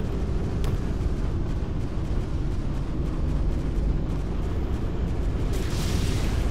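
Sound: RPG rocket explosion in Arma 2 video game

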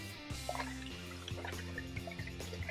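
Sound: water draining out of a Pythagorean cup

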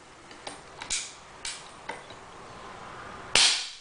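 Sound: single shot fired from an AirWolf gun

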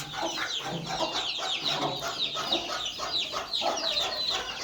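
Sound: hen clucking

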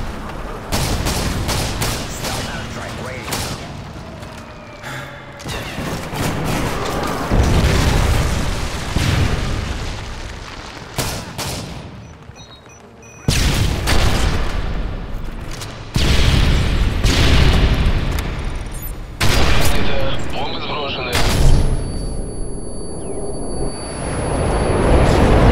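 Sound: predator missile strike explosions in Modern Warfare 3 video game

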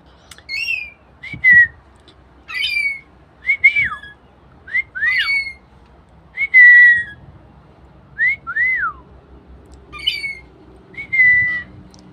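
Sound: rainbow lorikeet whistling and squawking

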